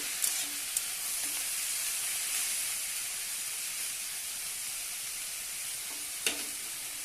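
Banana stem and shrimp sizzle steadily in a hot pan while being stirred, a continuous close frying hiss with occasional scrapes and a brief louder clatter near the end.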